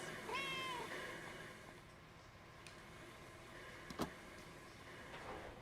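A cat meows in the video game Another Sight, one short rising call near the start. The rest is quiet ambient game sound with a faint click later on.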